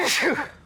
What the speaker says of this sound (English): The sun can make you sneeze.